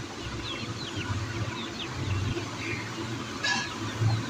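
Aseel chickens cluck softly in short, scattered calls, faint and somewhat distant over a low background hum.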